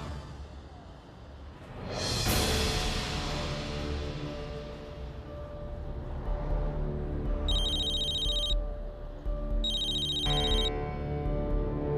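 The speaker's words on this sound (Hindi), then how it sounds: "ई बुलबुल हमके काहे फोन करल दिया?" Phone ringing in a TV drama scene: two bright electronic ring bursts come in after a swelling whoosh, over a layer of background music with no talk.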